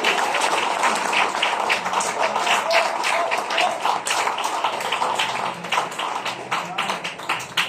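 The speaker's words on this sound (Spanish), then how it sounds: "Denle un aplauso a Jesús de Nazaret." A church congregation applauds during a Spanish-language sermon on leadership, with steady, dense clapping from many hands throughout and no talk over it.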